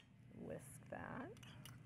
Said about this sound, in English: Whisk that.